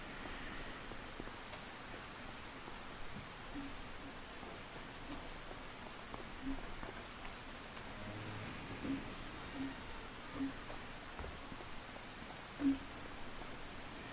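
Steady rain falls during a storm, a continuous soft hiss of drops on surfaces with a few louder isolated drips, with no voices heard.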